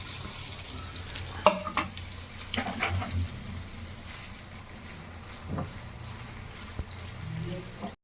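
Cubes of boiled egg fry in a generous amount of hot oil in a pan for an egg pickle, making a soft, steady sizzle with occasional spoon scrapes and clinks as they are stirred, with no talking.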